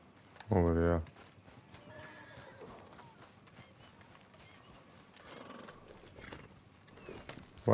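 A horse in Red Dead Redemption 2 gives one loud, sharp whinny near the start, followed by quiet background noise and soft talking.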